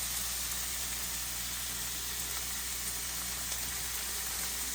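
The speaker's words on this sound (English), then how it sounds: "Bacon only takes a few minutes to cook." Bacon frying in a pan gives off a steady, even sizzle with a bright hiss. The sound is constant and close, and nobody talks over it.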